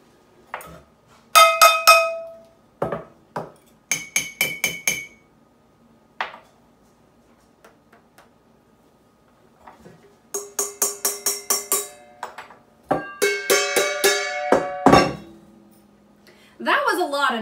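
Kitchen objects, a pan, bowls, a spoon and a glass of water, are struck in turn, giving bursts of ringing, bell-like clinks and pings in quick rhythmic runs separated by near silence.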